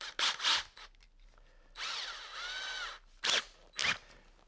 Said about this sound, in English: this is the drill for the screws, and I'm just going to pilot.